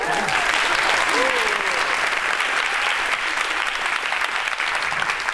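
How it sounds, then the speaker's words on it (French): A theater audience applauds volunteers during a French stage performance, loud continuous clapping filling the room from start to finish, with a voice briefly audible at the start. "Vous pouvez les applaudir."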